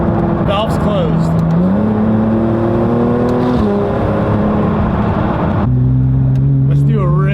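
Porsche 992 GT3RS with a titanium exhaust, valves closed, revving up and down loud and close, its tone climbing and dropping in steps, with a voice speaking briefly over it.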